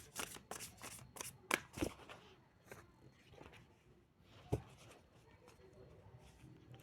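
A deck of playing cards being shuffled at close range, with quiet riffling and several sharp snaps and slaps, plus soft handling rustles between bursts.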